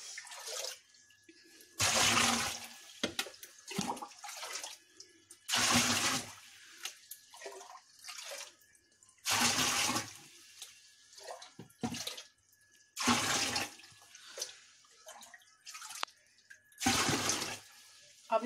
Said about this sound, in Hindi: हम एक मग की सहायता से ये पानी एक दूसरे बकेट में निकाल लेंगे